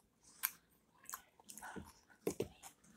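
Bites and chewing of a food wrap close to the mic, with several soft crunchy and squishy mouth sounds spread unevenly over a few seconds, no talking.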